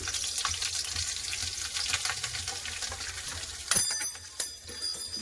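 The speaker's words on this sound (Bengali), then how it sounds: "এখানে কড়াই তেল ফোড়নে দিয়েছি কালো জিরে একটা কাঁচা লঙ্কা" Nigella seeds, a green chilli and asafoetida sizzle in hot oil in a kadai, giving a steady close crackle with a sharper clatter of utensil sounds near the end.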